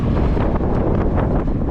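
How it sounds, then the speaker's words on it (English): Steady wind roars and buffets the microphone outdoors on a cool, windy day while a bike ride is under way, a continuous, loud rumble with no talking. "A little windy today."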